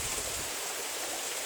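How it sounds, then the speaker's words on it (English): Water pours out from behind a rock at a mountain waterfall and runs off downhill, a steady, broad rushing wash that stays close and constant with no voices over it. "There's another one right on the other side of that rock, where see the water is coming out,"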